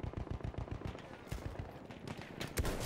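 Gunfire rings out in Battlefield 1, a rapid burst of shots followed by a loud, sharp sniper rifle crack near the end.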